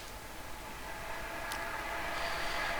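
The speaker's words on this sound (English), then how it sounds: "the train is passing by and it's making a lot of noise." A passing train produces a broad, hissing rumble that swells steadily louder, with a faint high metallic whine laid over the noise.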